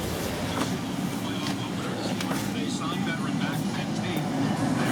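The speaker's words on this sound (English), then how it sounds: "So you can hear the blower motor running" Caravan heater blower motor fan running on a higher setting, a constant low whooshing hum throughout, with someone talking over it.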